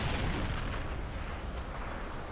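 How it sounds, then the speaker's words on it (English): A bazooka fires at a Panzer IV in a World War II strategy game match, sounding as a dense, sustained rumble of explosive blasts and gunfire with no clear single shot standing out. "Bazooka looking for a shot on that Panzer IV."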